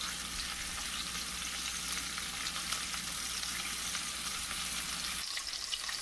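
Oxtails browning in a pan give a steady, loud, close frying sizzle with a dense crackle that holds evenly throughout, dipping slightly near the end.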